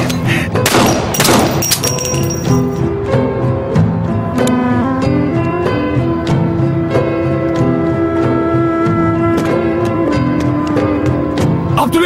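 Gunfire erupts in loud dense bursts early on, then a steady rattle continues alongside a tonal musical score through a tense action scene.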